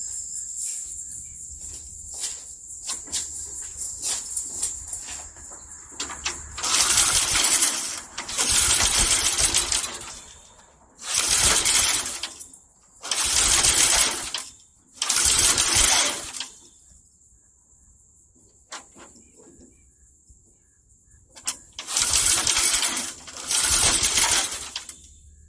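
A 1979 Lazy Boy push mower engine is cranked repeatedly, with several loud bursts of a few seconds each between quieter stretches, close to the machine and with no talking.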